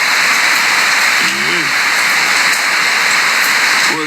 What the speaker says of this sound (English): If it rain, no ease up.